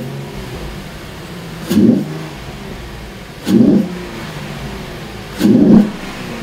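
Mustang V6 fitted with a Roush cold air intake, revved three times in evenly spaced bursts, each rising quickly over a steady low idle before settling back, loud and close with no talking.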